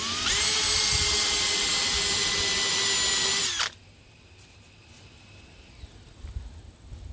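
A power drill bores into a plexiglass arcade control panel, a loud, high whining motor at steady speed for about three and a half seconds, then cuts off abruptly, leaving faint room noise and small handling clicks.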